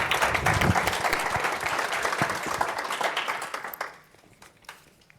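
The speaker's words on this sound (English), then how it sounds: "Let's give Luiz Ferraretto an applause here" Audience applause for a presenter at a dairy symposium session, a dense burst of clapping that thins out and stops around four seconds, leaving a few scattered claps and quiet room sound.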